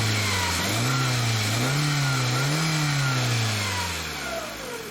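A Hyundai Elantra's engine revving up and down several times in steady swells, close and loud, then easing back toward idle.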